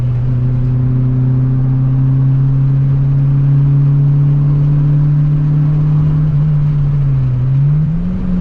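A naturally aspirated car engine holds a steady, loud drone while driving, its pitch climbing slightly near the end as the revs pick up, with no voices over it.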